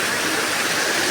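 A small stream cascades beside a mountain footpath, a steady rushing wash of water that stays constant and fairly close, with no voices.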